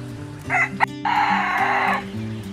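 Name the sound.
self-blue rooster crowing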